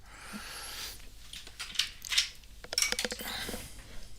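Water is poured into a glass from a refill, with scattered clinks of glass and a few short splashy pours, close and fairly quiet, no talking.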